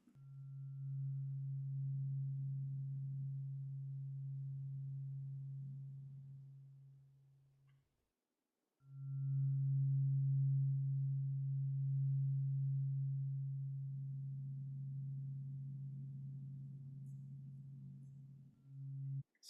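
A pure 136.10 Hz tone hums steadily and alone, breaks off briefly near the middle, then resumes at the same even level until the end.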